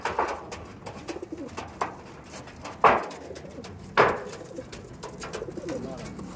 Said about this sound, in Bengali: এটা মাদা, এটা মাদা পায়রা।